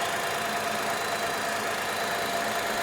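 A steady, low engine rumble runs continuously with a constant broadband hum, like a car idling close by, with no voices.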